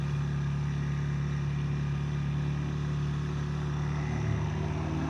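A Honda Rebel motorcycle engine held in first gear gives a steady, close, droning hum with a low rumbling tone that barely changes in pitch or loudness throughout.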